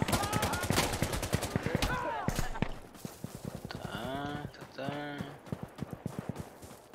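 Rapid bursts of gunfire in the video game Insurgency: Sandstorm crackle over a busy mix of game effects, with a dense rattling rhythm and several quick repeated shots.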